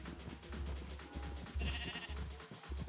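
Sheep bleating in the video game Minecraft, a few wavering bleats over a low rumbling game background, moderately close.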